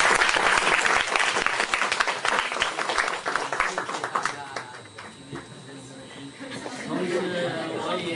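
Audience applause closing a guqin lecture by Cheng Gongliang, dense clapping from a hall crowd that fades after a few seconds, with murmured chatter continuing beneath.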